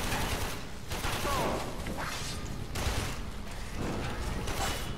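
Video game gunfire in Warframe comes from a heavily upgraded gun in dense, continuous bursts, loud and close, with a few brief gaps.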